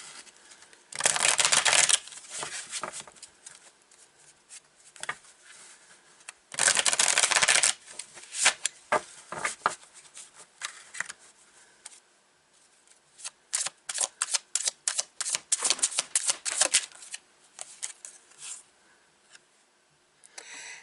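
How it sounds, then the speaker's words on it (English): Tarot cards shuffled and pulled: loud riffling bursts near the start and again around seven seconds, followed by quicker flurries of card flicks and taps, with no talk. "we're going to start pulling some cards on this beautiful Pisces"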